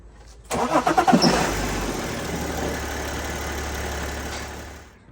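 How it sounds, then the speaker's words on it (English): A BMW 330d six-cylinder diesel cranks and fires up, then settles into a steady, close idle with a low, even rumble that carries on alone during an oil service. "we left the car to run for 20 minutes to let the engine flush do its thing"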